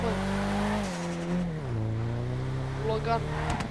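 A car drifts with a sustained engine drone and tire squeal as the pitch shifts up and down; a voice speaks over the noise and a squeal rises near the end.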